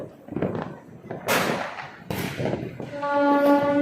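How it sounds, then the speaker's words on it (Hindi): Diwali firecrackers go off outdoors: two sharp, loud bursts a moment apart with crackling tails, followed by a sustained horn-like tone, amid street noise. "और पटाखे जोर शोर से हो रहे हैं सब"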